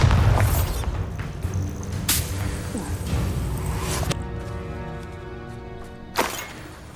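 A Bombarda spell explodes in Hogwarts Legacy with a deep boom and crashing burst, followed by a sharp crack and a lingering ringing tail; a voice calls out in-game just before.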